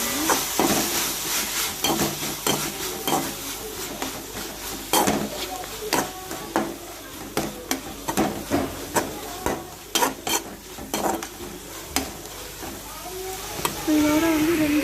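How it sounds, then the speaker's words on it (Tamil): Greens for Chettinad melagu thakkali keerai kootu sautéed in oil in a pan, with a soft steady sizzle broken by repeated sharp scraping and clinking of a spoon against the vessel while someone talks. "பாதி வேகிற அளவுக்கு நம்ம எண்ணெயிலே வதக்கிடணும்."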